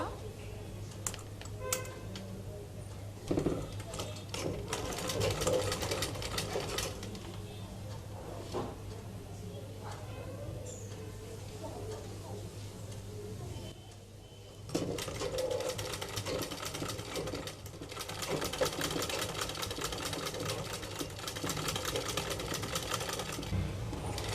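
Sewing machine stitching the neck joint and piping fabric of a baby frock, running in steady bursts with brief pauses while a voice talks over much of it.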